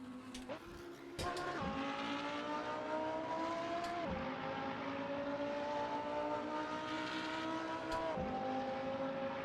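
An Audi R8 in a racing simulator game drops through gears, its engine droning steadily with several abrupt pitch shifts and blips at each downshift, loud and continuous.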